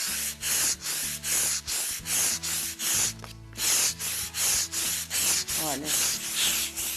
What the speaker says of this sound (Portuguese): para lixar também eu tenho que respeitar esse sentido